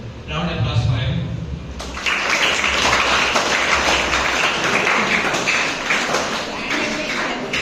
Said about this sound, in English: So round of applause for him.